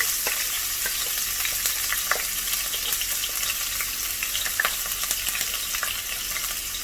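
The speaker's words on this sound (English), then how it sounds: "After the fennel seeds and mustard seeds have started splattering" Fennel and mustard seeds popping and splattering in hot oil for Chettinad prawn thokku, a loud steady sizzle dotted with many sharp crackles, close with no talk.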